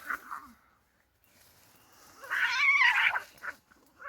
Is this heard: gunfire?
no